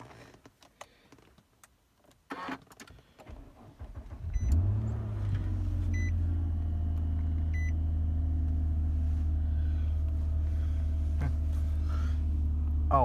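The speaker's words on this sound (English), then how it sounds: "I guess this car likes the cold because it started up no problem" A 2009 Nissan Maxima engine cold-starts in winter at about 30 degrees: a few faint clicks, then a loud crank at about four seconds that settles into a steady, deep, continuous idle hum close by, with no talking.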